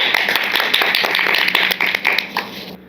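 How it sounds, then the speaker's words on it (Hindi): A crowd claps in a dense burst of applause, loud and close, tapering off toward the end. "आप लोग गलत बात पर इतने खुश हुए कि ताली बजाने लगे"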